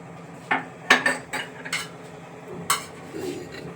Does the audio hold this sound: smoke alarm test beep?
no